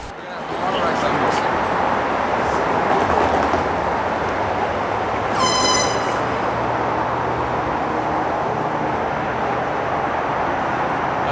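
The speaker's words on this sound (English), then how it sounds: "Trains Q452 and Q453 had a rolling meet between Johnson and Taft Streets." CSX freight trains Q452 and Q453 passing each other between Johnson and Taft Streets: a loud, continuous rumble and roar of rolling cars close by, with a brief shrill squeal midway and street traffic mixed in.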